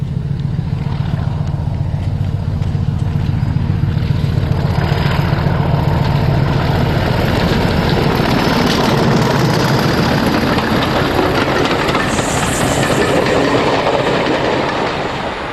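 D306 diesel locomotive running on the Nene Valley Railway near Ferry Meadows during a March 2007 gala, a loud sustained engine drone with a rhythmic clickety-clack of wheels on rail joints, passing close and steady throughout.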